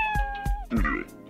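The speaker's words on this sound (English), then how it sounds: "Go on, let's feed the cat. Gotta feed the cat." A cat in the video game Dave the Diver gives three or four short, close meows in quick succession, with a musical tone sounding underneath at first.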